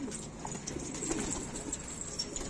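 Pigeons in a home loft, some paired and nesting on eggs, coo softly and repeatedly, low rolling calls close by with faint chirps and no talk.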